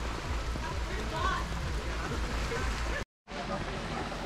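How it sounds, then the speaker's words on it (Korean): Rain falls at the seaside in Moalboal, Cebu, around sunset, a constant broad wash of hiss that cuts out briefly for a moment of silence before resuming. "아직도 비가 와요"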